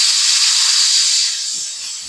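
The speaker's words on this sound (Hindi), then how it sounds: "जो प्रेशर है ना कुकर का वो हम सारा निकाल देंगे" Steam hisses hard from a pressure cooker as the pressure is let out after steaming chicken, a loud, close, broad rush that weakens slightly toward the end, with faint knocks underneath.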